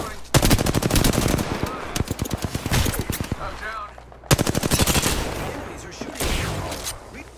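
Rapid automatic gunfire from Apex Legends, loud bursts of machine-gun fire rattling in two long volleys with a brief gap, crackling shots layered over game effects.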